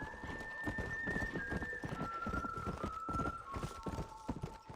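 A horse gallops in the video game Red Dead Redemption, its hooves pounding in a fast, steady rhythm over a sustained whistling musical tone, with a faint whinny now and then.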